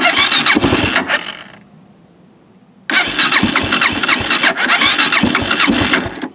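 Suzuki LTZ400 ATV engine started cold on choke: a loud close cranking whir that stops, a pause of near silence, then the engine catches and runs roughly with a rapid uneven putter until the end.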